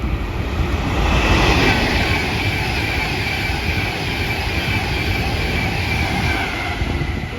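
A Class 390 Pendolino, unit 390119 on a Manchester Piccadilly to London Euston run, rushes through Bletchley station as a steady, loud broadband roar of wheels and air that holds for the whole stretch, with no voices.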